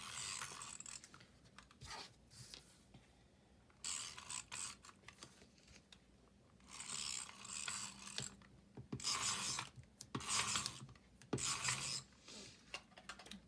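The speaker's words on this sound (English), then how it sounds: "just for time's sake, I'm going to use snail tape" Snail tape adhesive roller being applied while making a journal page layout, quiet bursts of clicking, ratcheting and rasping as the roller is pressed and dragged, in short repeated strokes.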